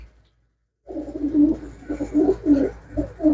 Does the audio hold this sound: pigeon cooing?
yes